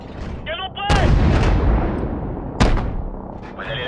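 Two heavy tank cannon blasts in Call of Duty: Modern Warfare, one about a second in and another near the end, each a sharp boom with a rumbling tail, amid game sound effects and electronic tones.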